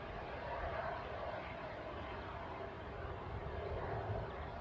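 A KLM Boeing 737 airliner departing Newcastle airport, heard as a steady, distant broadband engine roar that holds evenly throughout without changing much.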